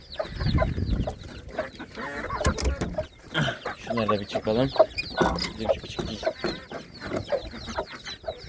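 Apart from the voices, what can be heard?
chickens clucking, rooster and hens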